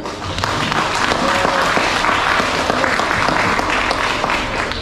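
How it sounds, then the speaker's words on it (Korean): Residents at a neighborhood assembly in Taehwa-dong, Jung-gu, Ulsan, break into loud sustained applause, a thick even roar of many hands clapping throughout. "여러분 박수 한번 주세요"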